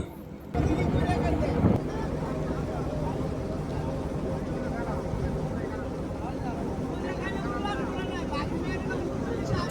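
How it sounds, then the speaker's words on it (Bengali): A wooden country boat moves steadily across the Meghna river, with a continuous low engine drone and water wash under steady wind; a voice speaks over the noise throughout. "আমাদের নৌকাটি চলছে আর এই পানির উপর ছোট ছোট ঢেউ তৈরি হচ্ছে"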